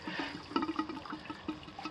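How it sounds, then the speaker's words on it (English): Water drains steadily from a tankless water heater, a continuous close rushing and gurgling flow that runs the whole time with no talk over it. "And it'll drain for a little bit."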